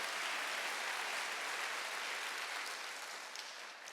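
A church congregation applauds during a Sunday worship service, a dense, steady wash of clapping that stays loud throughout and eases off slightly toward the end, with no voices standing out.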